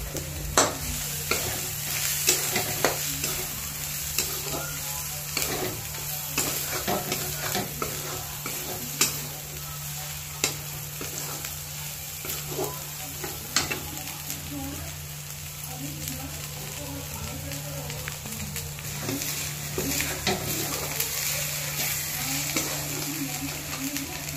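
Shev bhaji being stirred and fried in a pan: continuous oily sizzling with repeated scraping strokes of a spoon throughout, fairly close and steady.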